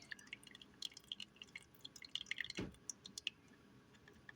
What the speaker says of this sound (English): That makes it so much easier to just pour your sauce